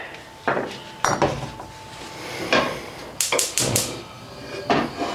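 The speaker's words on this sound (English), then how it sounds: "I have the small cast iron skillet." Small cast iron skillet handled in a home kitchen, with several sharp metallic clanks and knocks against a stovetop or counter, scattered over a few seconds at close range, with a soft hum beneath and no talk.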